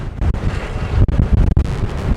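Wind blowing at a beach on a pier, heavy low-frequency gusts buffeting a phone microphone with brief dropouts, loud and continuous with surf rumbling underneath.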